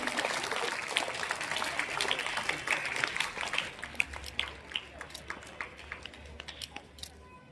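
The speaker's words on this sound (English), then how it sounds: "Give a huge round of applause for this special moment." Audience applause at a school Republic Day celebration, a crowd clapping steadily at first and then thinning into scattered, fading claps.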